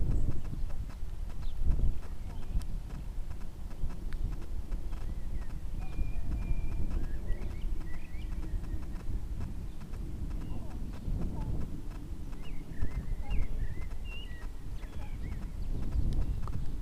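A young horse wearing a Pessoa training aid for the first time clip-clops steadily on the ground while being lunged, with wind noise and a person talking throughout.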